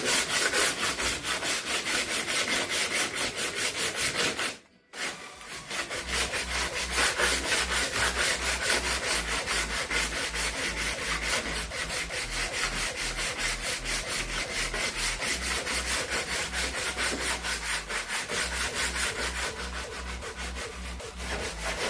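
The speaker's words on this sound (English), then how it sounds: "take a block, your sandpaper, and then with that line," Sandpaper wrapped on a block scrubs back and forth over a panel of a Mk1 GTS project car, a loud, close, steady rasping rhythm that runs almost unbroken with one brief pause and no talking.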